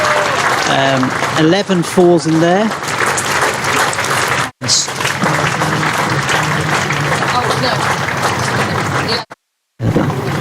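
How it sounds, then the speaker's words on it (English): A crowd at a Yorkshire v Essex County Championship cricket match applauds a century, a steady patter of clapping across the stadium under a commentator's talk. "So applause from the crowds."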